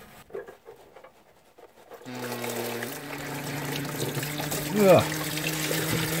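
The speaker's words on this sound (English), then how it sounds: "we now need to disconnect this hose from the bottom of the radiator and get the fluid out" Coolant drains from the bottom radiator hose of a Ford Capri, a steady trickle and splash of fluid that starts partway through and keeps running, with a brief grunt from a person nearby.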